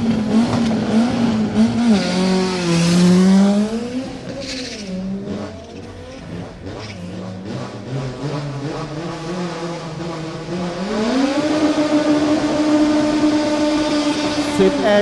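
Two Nissan 200SX drag race cars at a drag battle accelerate hard, engines rising and shifting through gears, then a second loud surge of revving, close and dominant throughout.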